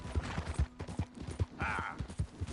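Horse hooves clip-clop in a fast, uneven rhythm in Red Dead Redemption 2, close and fairly loud, with a brief tonal burst partway through over a busy game background.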